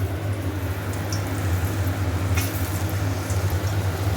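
Potatoes sizzling and frying in hot oil with whole cumin seeds and bay leaf in a home kitchen, a steady bubbling crackle close by with no talking.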